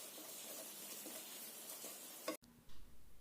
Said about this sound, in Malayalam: ഇനി ഇതിൻ്റെ പച്ചമണം പോകുന്നിടം വരെ ഒന്ന് വഴറ്റി കൊടുക്കണം